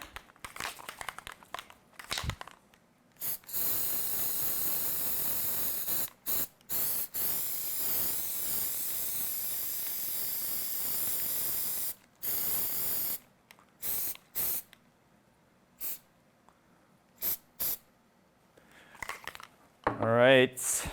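Spray paint hisses from an aerosol can onto plastic model bumpers in long continuous bursts of several seconds each, separated by short pauses and a few clicks and rustles, close up and loud.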